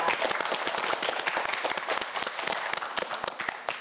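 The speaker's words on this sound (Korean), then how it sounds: "역시 응원의 박수 한번 보내주도록 하겠습니다" A quiz show studio audience gives encouraging applause for a contestant, a thick, sustained wash of many clapping hands with crowd noise, no talk over it.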